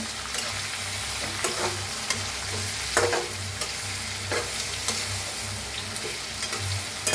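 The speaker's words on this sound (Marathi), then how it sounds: "आता मस्त असं फिरवून घेऊया वांगे" Masala-coated eggplant sizzles and fries in a pan while being stirred, steady frying hiss with repeated scraping stir strokes throughout, close and fairly loud with no talk.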